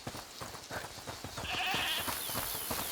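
Goat bleating in the video game A Plague Tale: Requiem, a few wavering bleats over light footsteps and ambient farm sounds, moderately close.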